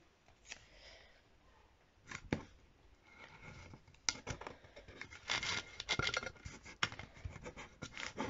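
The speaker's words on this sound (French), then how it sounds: "On appuie bien, on fixe bien pour pas que ça bouge." Masking tape pressed and rubbed down firmly onto a Spotify keychain before engraving with a Cameo 4 cutter: close, dry rubbing and scratchy smoothing strokes in irregular bursts, growing busier and louder toward the end.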